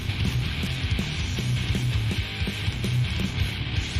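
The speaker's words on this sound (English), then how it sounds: "Entombed sounds like this" Death metal by Entombed plays as a dense, saturated wall of heavily distorted guitars with pounding double-kick drums and crashing cymbals, loud and continuous.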